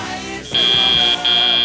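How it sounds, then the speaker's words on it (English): A loud end-of-match buzzer sounds at an FTC robotics competition, a steady electronic drone that breaks briefly and then resumes over a murmuring hall. "Yes, that's the buzzer."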